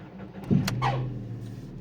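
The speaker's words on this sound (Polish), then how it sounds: "Odpala całkiem normalnie. tam brzęczący rozrusznik to jest standard." A Seat Toledo 1.6 petrol engine, one that smokes white and loses coolant, cranks briefly on a buzzing starter and catches, then settles into a steady idle, close and fairly loud.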